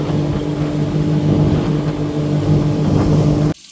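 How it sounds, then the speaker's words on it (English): A boat motor runs steadily at night with a loud, constant engine drone and a hum of wind and water, cutting off abruptly near the end. "I have some fun on the boat with the new lights."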